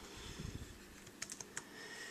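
Typing on a computer keyboard, a quick run of soft key clicks with a few sharper taps near the middle, faint and close, with no speech.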